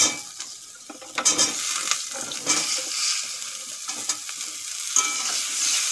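Cauliflower is added to fried potatoes with turmeric and salt, giving a loud, bright sizzle in hot oil and repeated scraping and stirring strokes in the pan.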